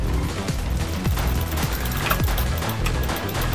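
Gunfire from the Roblox shooter Zombie Attack, with repeated shots landing in a steady rapid rhythm over a dense, loud game mix, with no talking.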